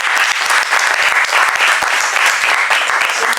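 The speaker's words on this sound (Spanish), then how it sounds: "Y un aplauso principalmente para los mediadores" Sustained applause from an audience in a mediation workshop, a dense steady patter of many hands clapping across the whole stretch at a fairly loud level, with no speech over it.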